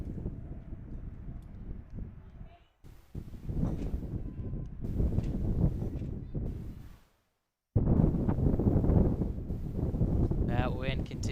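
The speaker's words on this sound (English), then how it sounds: "That wind continuing to blow like heavy as Sudnick takes strike 1." Strong wind blowing across an outdoor varsity softball field, a heavy rumbling roar of wind buffeting the microphone that carries on almost the whole time, broken by two brief drops to near silence, with a commentator talking over it.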